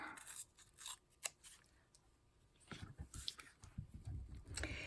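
Paper torn by hand for a journal collage, a few quiet, close ripping strokes separated by short pauses, the final tear longer and louder, with no voices.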